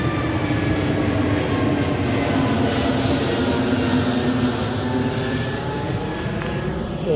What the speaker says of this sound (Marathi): आत्ताच विमान गेलं होतं, डबल आला आता एक